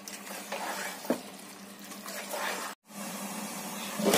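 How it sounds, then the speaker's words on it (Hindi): Chicken and onions fry in a pan for a home-style chicken curry, a steady sizzle running throughout with a sharp utensil clink near one second and a brief break in the sound near the end. "आप देख रहे हैं कि प्याज और चिकन कितने अच्छे से भुनने लगा है"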